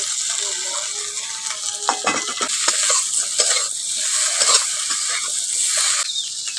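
Chopped tomato and pre-fried potatoes frying in a hot spice mix for a fish and potato curry, a steady close sizzle with repeated scraping and stirring clatters throughout and no talk.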